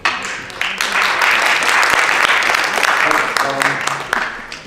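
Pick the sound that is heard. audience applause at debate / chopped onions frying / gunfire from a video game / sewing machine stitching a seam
audience applause at debate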